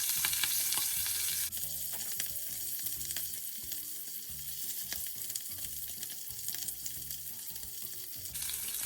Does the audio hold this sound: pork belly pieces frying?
yes